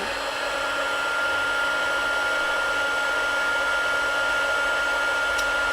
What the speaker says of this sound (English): just going to move my heat gun over it